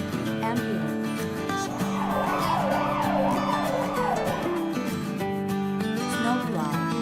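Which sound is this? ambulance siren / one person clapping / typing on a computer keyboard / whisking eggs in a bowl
ambulance siren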